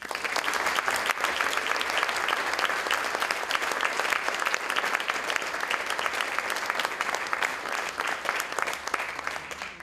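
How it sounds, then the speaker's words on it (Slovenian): Audience at an awards presentation in Radenci giving the winners a big round of applause: dense, steady clapping from a sizable crowd, sustained throughout at even loudness. "še en velik aplavz"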